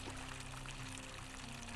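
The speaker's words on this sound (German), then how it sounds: "Ein Springbrunnen, der frisches Wasser produziert." Fresh water splashing and pouring steadily from a fountain in the game The Forgotten City, a soft continuous trickle heard alone at low level.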